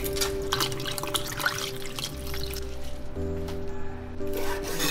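Soaked pig skin is washed and squeezed by hand in clean water, giving continuous wet rubbing and trickling sounds with a steady low hum underneath, no talking.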